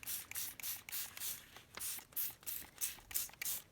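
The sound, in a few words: spraying coffee from a spray bottle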